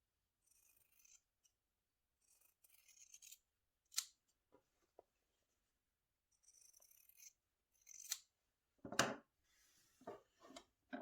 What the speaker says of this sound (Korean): 원단 가위로 내 모서리 시접 정리를 해 주시고요.